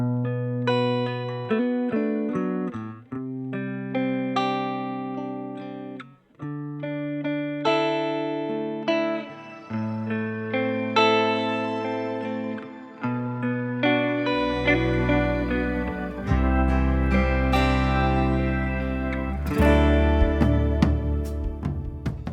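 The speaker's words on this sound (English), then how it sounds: "what you're going to hear now is a very dry sounding electric guitar amp" A dry electric guitar played through an amp with no reverb, strumming and picking chords and single notes continuously for about twenty seconds, loud and close, with heavier low-end rhythm joining toward the end.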